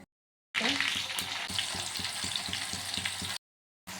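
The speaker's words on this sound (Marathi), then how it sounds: "आता आपण त्याच्यामध्ये कांदा टाकूया" Onions hiss and sizzle loudly in hot oil, with rhythmic stirring scrapes, starting suddenly after silence and cutting off before a brief return.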